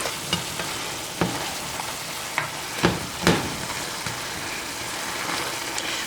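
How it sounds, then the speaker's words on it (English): Beef and broccoli thickened with xanthan gum being stirred in a sizzling pan, a close, steady fry with sharp scrapes and clacks of the utensil at irregular intervals. "I just want to stir the powder off my meats and get that thickened"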